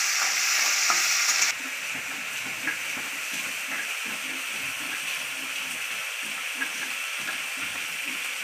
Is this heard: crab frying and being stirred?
yes